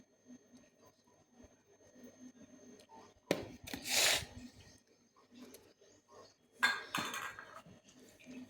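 A metal spoon clinks against a cooking pot in two short bursts while salt is added to a dish, close and bright over a quiet kitchen background.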